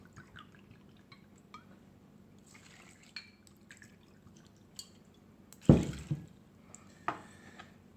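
Two tots of vodka are poured into a Dawa cocktail with lime, honey and sugar. Soft clinks and drips build to a short splashing pour, then a second quieter splash, close up and with no talk.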